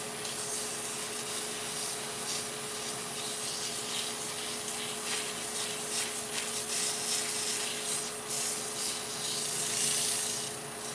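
Steady abrasive sanding of green hawthorn wood on a lathe, a continuous close rubbing hiss over a constant motor hum with no pauses, no talking.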